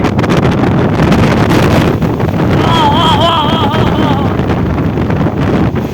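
A violent windstorm of about 100 km/h in Vejalka village, Ranpur, Botad district, blasting the microphone with a loud, unbroken roar while a voice briefly rises over the gusts.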